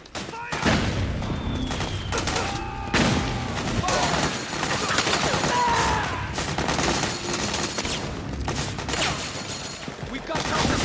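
Dense gunfire in the video game Metal Gear Solid 4 on PlayStation 3: loud, continuous volleys of shots and bursts under soldiers shouting commands.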